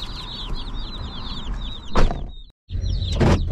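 Mail-order chicks chirp constantly inside a box, making a dense run of high peeps. Two louder rustling knocks interrupt them, and a brief silence cuts in near the end.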